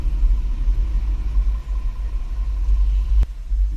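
A 2022 Ford Maverick pickup carrying a two-bike tilting hitch rack weaves through a slalom on a test course, its engine giving a steady low rumble close by with no talk.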